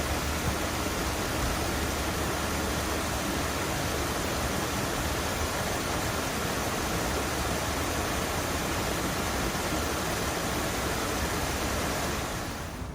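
Waterfalls in a Chicago park roar in a steady, loud, close wash of falling water that fills the whole stretch without a break, fading only at the very end.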